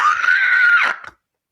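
A woman lets out a single loud, sustained scream lasting under a second, tapering into a brief breathy tail before silence.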